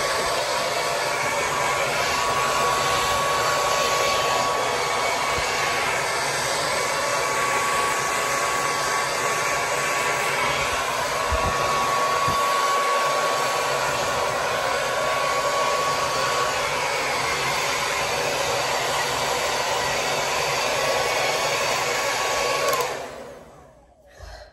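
A hair dryer blows steadily while drying hair, a loud continuous whooshing drone with a faint whine that runs unbroken for over twenty seconds before switching off at the end.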